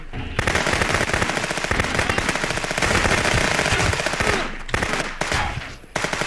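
Gunfire in a Contraband Police video game shootout, with rapid automatic bursts and overlapping shots that stay loud and nearly continuous and pause only briefly.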